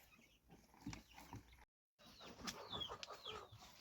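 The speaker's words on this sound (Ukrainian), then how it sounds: "Півник заспівав." A rooster crows nearby at evening on a farm, a rising, strained call with clucking fowl around it, then more bird calls after a short silent gap.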